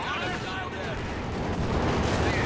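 Anti-tank gun fire in Company of Heroes 2, a dense, continuous battle din of heavy shots and rumbling impacts with no clear separation between blasts, under a steady layer of game noise.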